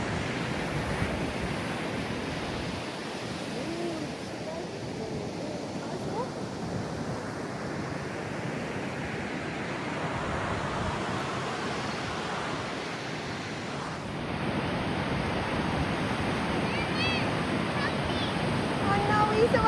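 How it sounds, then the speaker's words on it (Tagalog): Steady roar of strong surf washing onto Bondi Beach, broadband and continuous, growing a little louder toward the end with faint voices underneath. "Ala, lakas na ng alon."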